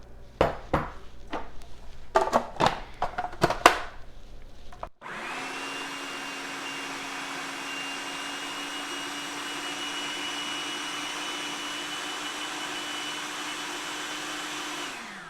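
Several sharp clinks and knocks of utensils against containers come first. Then a food processor starts up with a steady, loud whir as it blends chickpeas into hummus, running unbroken and close for about ten seconds with no one talking.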